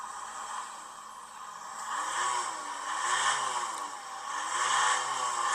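A used van at an auction has its engine revved hard from cold, the pitch swinging up and down in several repeated rises and falls under a steady mechanical clatter and hiss.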